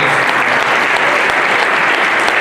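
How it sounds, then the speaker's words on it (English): Dense, steady audience applause from a crowd at a club gathering that honours a holiday Santa project for about 400 kids. The clapping is continuous and fairly loud, with no voices. "That deserves some applause."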